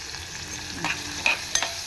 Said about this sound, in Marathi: हे स्लो गॅसवरच परतवायचे.